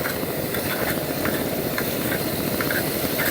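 Beef curry sizzles in a tiny pan in a miniature kitchen, producing a continuous close hiss of frying with faint scraping ticks as it is stirred, and no voices.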